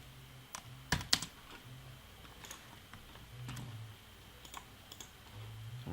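Keys clicking on a computer keyboard while C# console-app code is typed, with scattered close keystrokes and a few sharper taps over a quiet background hum.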